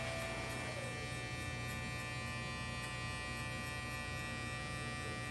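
Electric hair clippers hum steadily through a haircut, a fairly quiet, even buzz that holds throughout with no voices.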